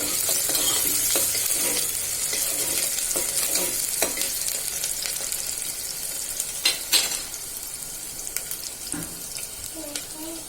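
Onion fries in a pan while being stirred, a bright continuous sizzle with scraping spoon strokes and occasional clatter, close by and gradually settling.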